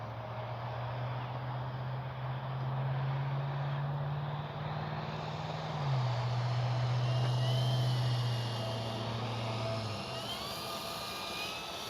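A Flightline F4U Corsair RC model airplane flies overhead, a steady distant motor drone that shifts pitch midway and fades slightly near the end, under outdoor ambience with no talk.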